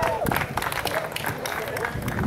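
Audience applause at a sports complex naming ceremony for Obadele Thompson in Barbados, a steady patter of many hands clapping with some crowd noise and a voice over it.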